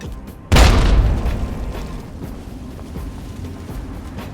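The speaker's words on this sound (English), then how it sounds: "In Fallout 3, whenever I throw this frag grenade and it explodes" A frag grenade explodes in Fallout 3 with a single sudden, loud boom and a deep rumbling blast that fades slowly over several seconds, heard on its own.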